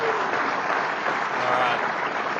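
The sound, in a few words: audience applause at tech conference talk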